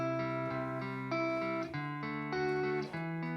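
A guitar riff loop plays back through a looper pedal, a steady, loud, sustained distorted guitar figure with regularly shifting chord notes that repeat without breaks, with no voice over it.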